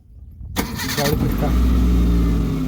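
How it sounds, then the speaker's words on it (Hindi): A car engine cranks and catches after the ignition is switched on and the clutch pressed for the first start of the morning, the starter burst settling into a loud, steady idle close by. "गाड़ी स्टार्ट हो गया।"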